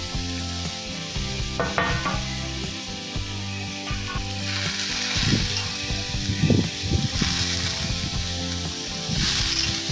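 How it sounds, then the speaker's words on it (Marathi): Chopped cabbage and coriander sautéing in hot oil, a continuous loud sizzle broken by scraping stirs and light knocks of a spoon against the pan, with faint music underneath and no voices. "कोबी आणि कोथिंबीर एकत्र चिरला होता तो आता आपण मस्त छान तेलामध्ये परतून घेऊया"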